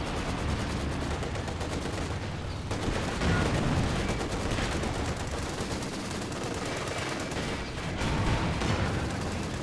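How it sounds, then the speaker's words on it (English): Machine gun fire rattles in the World War II strategy game Company of Heroes 2, with dense rapid bursts layered over constant battlefield gunfire and explosions, loud and continuous. "The MG does a good damage there."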